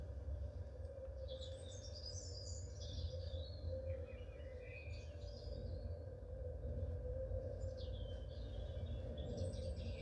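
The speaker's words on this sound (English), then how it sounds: "We recorded it in the evening, so we got the evening chorus" An evening bird chorus: several birds chirp and trill in scattered bursts over a constant low hum and steady background noise, fairly distant.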